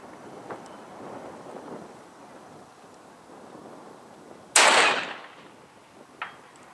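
.223 Tikka T3 XLR rifle in an Evolution chassis fired at a 1,000-yard target outdoors, one loud sharp report with a brief decaying tail amid windy background hiss, followed by a fainter distant thump.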